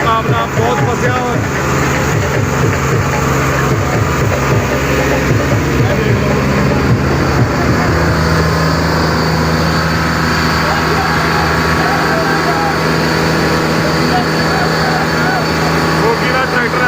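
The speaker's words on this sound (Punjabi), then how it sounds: "ਗੋਗੀ ਦਾ ਟਰੈਕਟਰ ਇਸ ਟਾਈਮ ਵੱਧ ਰਿਹਾ ਵਾ ਜੀ।" Fiat 440 tractors locked in a tug-of-war contest, their engines laboring with a loud, continuous rumble and rhythmic chugging that steadies into a constant drone, under an announcer's ongoing commentary.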